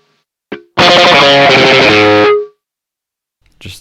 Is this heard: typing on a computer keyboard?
no